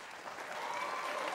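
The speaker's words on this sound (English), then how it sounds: "I think he's going to get a nice clap" Steady applause from an audience, a dense wash of clapping hands that holds even and fairly loud throughout with no voices over it.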